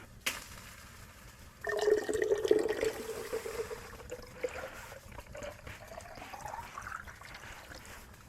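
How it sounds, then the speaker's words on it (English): Meltwater from a winter hot tent's ceiling poured into a pot, a steady trickle that starts abruptly, rises in pitch as the vessel fills over several seconds, close and clear with no talk. "drinkable water, and I can pour it in here."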